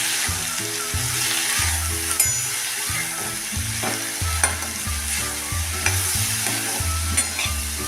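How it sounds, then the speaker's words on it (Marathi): Yellow masoor dal usal with salt being stir-fried in a pan, a constant close sizzle with regular scraping stir strokes and no talk. "त्यात आता टाकूया हे चवीपुरतं मीठ आणि आता हे एकसारखे आपण परतून घेऊया"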